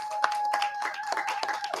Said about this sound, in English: Y'all give Brother Curtis a round of applause